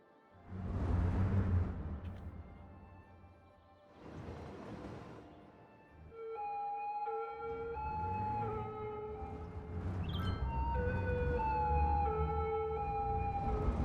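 Ambulance siren in the city-building game Cities: Skylines, a wailing tone that rises and falls repeatedly over traffic noise, starting muffled and growing clearer and louder.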